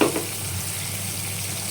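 Ground spice paste hitting a hot pan for tomato paneer, with a sharp sizzle at first that settles into a steady, close frying hiss.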